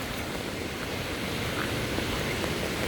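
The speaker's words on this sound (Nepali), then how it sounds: "खासै ठुलो छ खोला" A village stream near farm fields pours along steadily in a constant broadband rush of flowing water, close and continuous with no talking.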